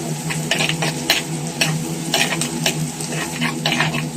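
Ginger, garlic, green chilli and fenugreek frying in a clay pot for a fish curry, a bright continuous sizzle broken by regular scraping strokes of a spoon stirring the mixture.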